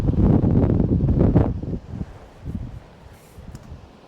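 Blizzard wind blowing outdoors in a driveway, a heavy low buffeting roar against the microphone that is loud at first and then eases into softer gusts, with no voices.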